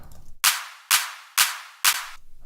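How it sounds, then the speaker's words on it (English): Four sharp, bright electronic claps land at an even, quick rhythm, each with a short snappy tail, loud and dry. "Just some claps here."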